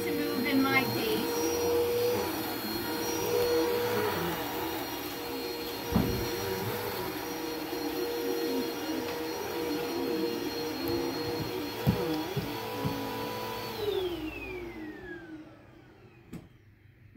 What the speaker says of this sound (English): Make sure when you're done, you put the vacuum up.